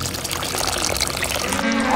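Hot water draining out of a Nissin Yakisoba UFO instant noodle cup, a steady close splashing pour that runs for about two seconds with no talk.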